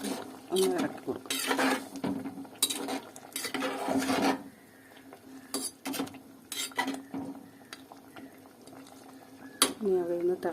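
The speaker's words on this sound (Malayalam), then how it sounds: "നന്നായിട്ട് തിളച്ചതിന് ശേഷം തീ സിമ്മിലേക്ക് ഇടണം" Fish curry bubbles and boils in a pot, a crackling, popping simmer running throughout, with a person talking over it in bursts.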